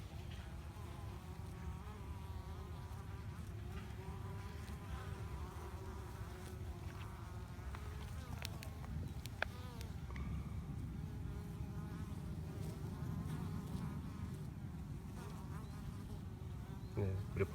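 Honey bees hum at a hive entrance as workers fly in carrying pollen, a dense, continuous buzzing drone with individual bees zipping past close by.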